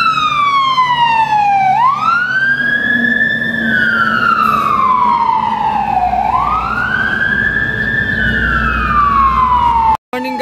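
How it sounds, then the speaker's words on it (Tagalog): A fire truck's wailing siren passes along a street in Butuan City, loud and close, rising and falling in long sweeping cycles over a low engine rumble, cutting off abruptly near the end. "may sunog ng bumbero tayong dumadaan."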